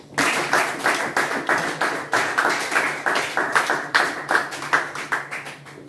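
A church congregation claps in a fast, steady rhythm, loud and close, with sharp repeated hand claps throughout and no talking.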